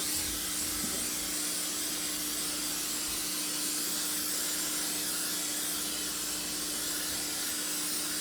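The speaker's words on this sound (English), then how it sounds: "I'm going to spray my pan down pretty good." A steady, continuous hiss of butter-flavored aerosol cooking spray coating a baking pan, held close and unbroken for several seconds, with no talking.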